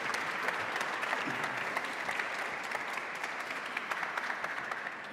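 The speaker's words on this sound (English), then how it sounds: "we can, of course, shower them with a round of applause, right?" An audience at the Global Crop Diversity Summit gives a sustained round of applause for a state secretary, the even clapping holding steady before easing slightly at the end.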